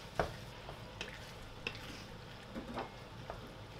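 Meat for a halal bolognese sauce sizzles softly in a pan while being stirred, with scattered scraping and light clacks of a utensil against the pan at irregular intervals; quiet and close, no voices.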